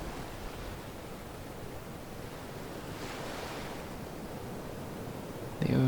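Ocean surf rolling in continuously, a steady broad wash of waves with a swelling crest midway, close and even, with wind-like hiss and no talking.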